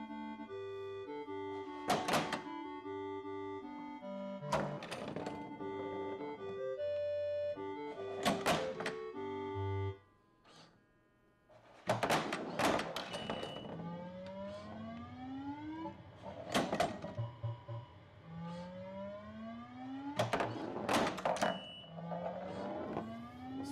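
A pinball machine in play hits a drop target amid chiptune-style electronic music and bleeping tones, with sharp mechanical thunks recurring every couple of seconds, loud and close, and a brief near-quiet pause midway.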